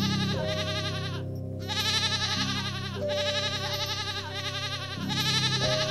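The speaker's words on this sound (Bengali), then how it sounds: "এত রাতে ছাগলের চিৎকার কেন?" A goat bleats at night near a village cattle shed, wavering repeated cries rising and falling in long, loud bursts with brief pauses between, over a steady tonal background.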